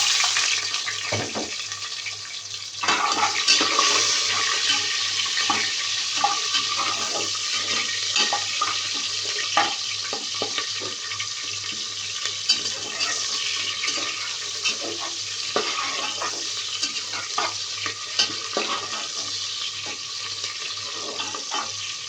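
Coarsely chopped onions sauté in a pan for a Pakistani-style mutton curry, giving a steady bright sizzle with scattered crackles and stirring knocks, moderately loud and unbroken throughout.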